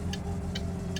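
Three evenly spaced, crisp clicks from a car's turn signal in the My Summer Car video game tick over a steady engine hum, with no one talking.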